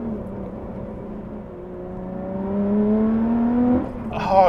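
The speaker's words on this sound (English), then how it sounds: "God, the sound that the engine is making, it makes so much difference." A Lotus Evora 400 engine heard from inside the car while driving, a steady drone that swells as it revs up, climbing in pitch before a shift and growing louder toward the end.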